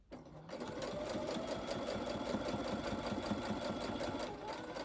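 A sewing machine stitches a small fabric lip balm holder, running steadily with a fast, rhythmic mechanical clatter for several seconds, close and clear with no talking.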